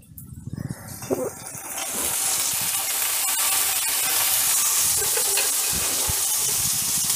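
Cowpea pods are added to softened onions in a pan for a dry vegetable dish, and a steady sizzling hiss builds after a few clattering handling sounds at the start, then continues loud and even.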